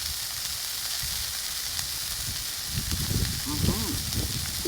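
Burgers sizzle on a Coghlans tripod grill over a Solo Stove Ranger wood-burning stove outdoors, a steady close crackling hiss with sputtering pops that grows busier toward the end.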